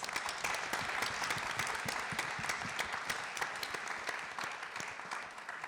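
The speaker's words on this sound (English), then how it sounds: "So let's give the candidates a quick round of applause." An audience at a gubernatorial candidate climate forum at UMD College Park claps for the candidates, a sustained round of applause with crisp individual claps over a steady wash, fairly quiet and even throughout before easing slightly at the close.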